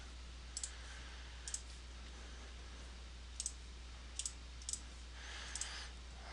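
Sparse key clicks from a computer keyboard as a DOS command is typed at the C prompt: small clusters of sharp taps separated by pauses, fairly faint against a steady low hum, with no talking.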